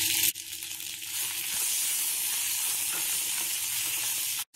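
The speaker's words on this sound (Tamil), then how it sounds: "சேர்த்துட்டு நல்லா வதக்கிக்குவோம்." Chopped onion, tomato and chili sauté in a pan for a Bermuda grass chutney, giving a loud, steady, close sizzle with faint stirring. The sizzle breaks off briefly at the start and again near the end.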